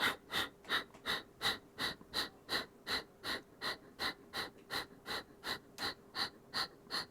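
Rapid forced nasal exhales with passive inhales during a yoga bridge pose, about twenty quick puffs in a steady, even rhythm, close and distinct with no speech.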